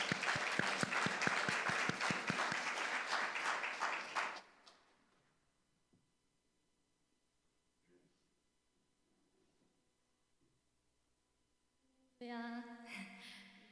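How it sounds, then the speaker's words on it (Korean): A church congregation at a Parents' Day service gives a warm round of applause for a young accompanist, many hands clapping briskly for about four seconds before fading into near silence, then piano or organ notes enter at the end. "큰 박수 주시기 바랍니다."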